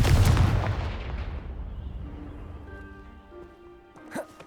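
A Confringo fire spell blast from the Hogwarts Legacy video game, with a loud explosive boom at the start that rumbles and fades into a lingering tonal ring, followed by a brief crackle near the end.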